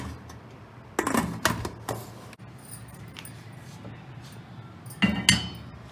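A pressure cooker lid is shut over a pot of mince and white beans with green chillies, giving a few sharp metallic clinks and clacks in two brief bursts against a quiet kitchen background.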